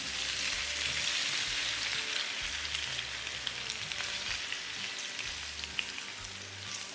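Hot oil in an oven tray sizzles and crackles steadily as potatoes are added, a close, continuous frying hiss with no talking.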